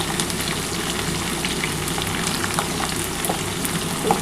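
Drumsticks (moringa), potato, onion and tomato fry in a pan, giving a steady, even sizzle with soft crackling throughout and no talking.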